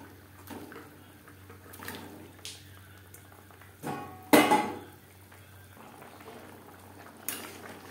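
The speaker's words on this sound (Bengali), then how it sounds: "3-4 মিনিট গ্রেভি বেশ ভালো করে ফুটিয়ে নেব।" Fish curry gravy bubbles in a pot, a steady soft simmer with occasional louder pops and a brief, sharp splash-like burst midway, heard close and alone.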